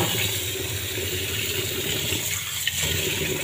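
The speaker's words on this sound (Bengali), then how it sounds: "এই যে চাল নিয়ে নিয়েছি, এখন এটা বেসিনে ধুয়ে নেব।" Rice being washed under running water in a basin, a steady, close gush of tap water pouring continuously with a slight splash and one small clunk near the end.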